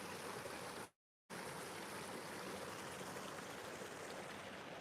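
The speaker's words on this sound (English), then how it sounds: "Hear the noise of the burn, as we call it, stream." A Scottish burn, a small stream, rushing steadily close by on a hiking trail, a continuous even hiss of flowing water with a brief dropout near the start.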